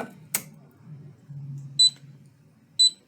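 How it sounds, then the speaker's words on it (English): Two short, high electronic beeps from an IDEC touchscreen powering up sound about a second apart against a quiet room with faint low hum and a soft click. "you hear the beep beep sound?"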